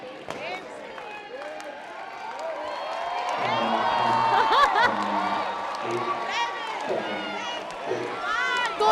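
A crowd at a school watching the Axiom-4 space launch breaks into cheering and clapping. Excited voices swell from about halfway through, and loud mixed shouting and chatter layer over the rising applause.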